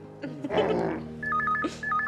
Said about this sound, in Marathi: शिर्या फोन घे ना.